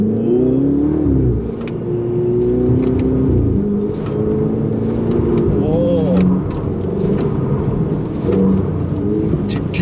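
A Ferrari 488 GTB accelerating through a cone slalom at Inje circuit, the engine note swelling and dipping as the throttle is worked through the turns, loud and continuous with some faint voices inside the cabin.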